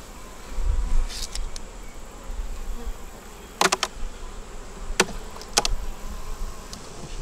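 Honey bees buzz steadily around an open hive during a frame inspection, a low continuous hum with a few sharper, louder passes of individual bees flying close.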